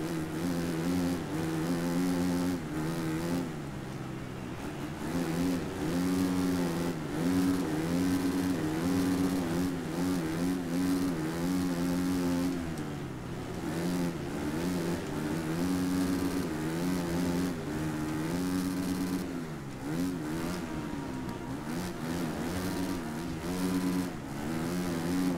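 The engine of a Suzuki motocross motorcycle in the video game MXGP 3 drones steadily and loudly, rising and falling in pitch as the bike revs and shifts through continuous riding.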